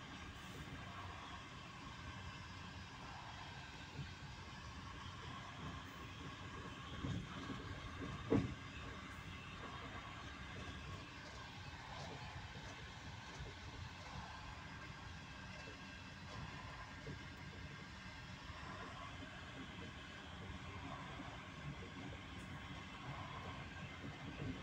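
A train runs steadily at a distance in Crimea, a low continuous rumble with faint hiss and a brief clank midway, no talking.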